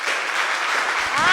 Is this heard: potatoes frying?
no